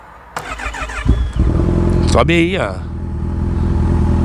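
Unplated motorcycle starting up close by, a quick crank catching into a loud engine that revs once and then settles into a steady rumbling idle, with someone speaking briefly over it.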